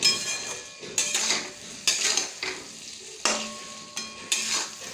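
Potato chunks and spices frying together in a pan give off a steady sizzle, broken by several sharp scrapes and knocks of a spoon stirring against the metal. The stirring comes in regular strokes, close and fairly loud, with no voices.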